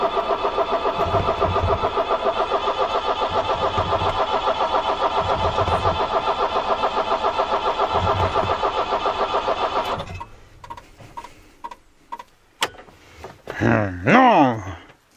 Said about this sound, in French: on voit s'il y a une différence du démarrage à froid sans préchauffage